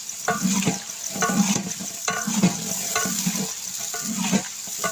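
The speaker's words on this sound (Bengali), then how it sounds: "আপনারা এইভাবে চর্বি দিয়ে দেবেন সুন্দরভাবে চর্বিটা ভেজে নেবেন" Beef fat frying in a pan for chhakka, a steady sizzle with a spoon scraping and stirring at a regular rhythm, close and fairly loud.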